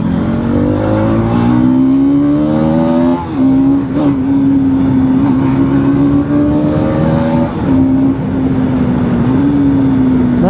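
Bajaj Pulsar NS motorcycle engine revving up hard while riding on a road, a loud steady drone rising in pitch with brief dips between gear shifts, close and dominant throughout.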